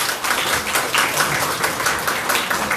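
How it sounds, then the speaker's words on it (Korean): Church congregation applauding children from a community center heading to camp, a dense steady clapping that fills the room throughout. "우리 교우님들 박수 한번 주세요."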